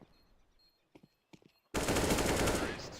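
An AK rifle in Counter-Strike: Global Offensive opens up in a loud, sustained burst of rapid automatic fire after a second or so of quiet in-game footsteps and faint noises.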